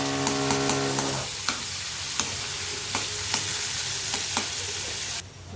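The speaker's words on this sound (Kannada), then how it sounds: "ಗ್ರೇಪ್ಸ್ ಫ್ರೈ ಆಗ್ತಾ ಇದೆ." Raisins fry in ghee in a small pan, a close steady sizzle broken by a handful of sharp scraping taps from stirring, ending abruptly after about five seconds.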